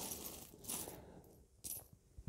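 A metal Austrian 100 schilling coin is handled close up, giving a few faint clinks and scrapes against other coins in a quiet room with no talking.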